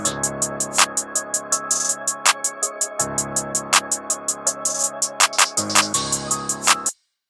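Programmed drum loop with sharp repeated claps layered over a rapid, steady hi-hat pattern, plus deep bass underneath, ending with a few extra added claps before cutting to silence.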